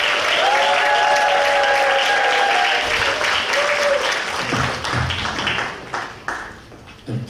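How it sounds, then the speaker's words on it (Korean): Sustained audience applause welcomes a guest lecturer at a church seminar on Christian dating and marriage; dense, steady clapping from a hall crowd holds loud for several seconds, then thins out and tapers near the end. "우리 큰 박수로 모셔드립니다."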